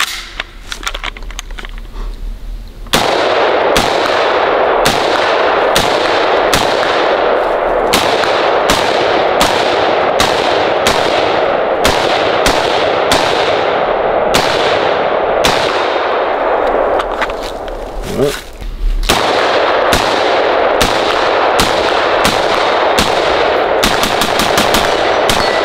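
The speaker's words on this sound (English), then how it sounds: "Let's go ahead and start with the ACR. Let's go run a couple of mags through it for each of us." A 5.56 ACR short-stroke piston rifle fires several magazines outdoors: loud, close, sharp shots in fast strings, with a brief lull between bursts partway through and no talking.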